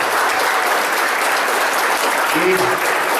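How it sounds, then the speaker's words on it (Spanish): Loud, steady applause from a school audience at a uniform-blessing ceremony at a private school in Cajamarca, dense clapping filling the whole stretch, with a brief voice rising near the end. "Un fortísimo aplauso para todos y para estos jóvenes."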